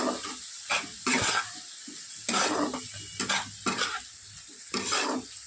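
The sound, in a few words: sautéing spices and raisins in a pot for prawn pulao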